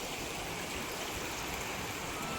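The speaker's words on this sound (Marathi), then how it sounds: "सुंदर अशी नदी लागली आहे" A river along the Narmada flows in a steady, even rush of water, moderately loud and unbroken, with no voices.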